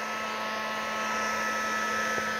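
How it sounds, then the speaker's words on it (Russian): A heat gun blows hot air steadily over the plastic trim of a Peugeot 206, giving a continuous close whine with a fixed tone, and no talk over it. "Вот, включаем фен."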